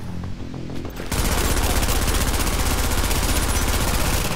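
Sustained rapid turret gunfire from a video game erupts after about a second of quieter game sound, then holds loud and dense as a continuous automatic burst to the end.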